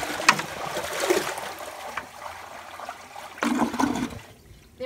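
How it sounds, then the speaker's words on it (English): A Kohler Wellcomme toilet is flushed by pouring a bucket of water into the bowl, giving splashing gushes and then a gurgling siphon draining the bowl, close by with no talk. "But yeah, here's the flush. Let's hope it siphons out this time."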